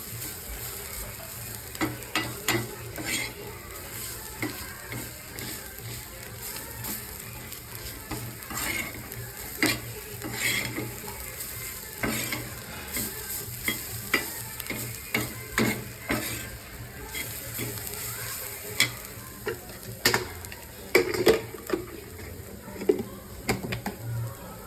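Chili thecha roasting in a pan, a continuous low sizzle broken by frequent scraping and stirring knocks from a spatula, steady over a long stretch with no voices.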